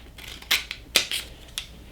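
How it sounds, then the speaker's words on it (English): A few quick, crisp snips of scissors cutting through thin transfer tape, close and fairly quiet, with short pauses between cuts. "Cut into my transfer tape here."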